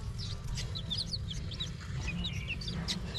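Chickens cluck and chirp at feeding time, scattered short calls over a low, busy background, fairly quiet and without speech.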